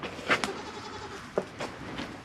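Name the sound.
goats bleating on a farm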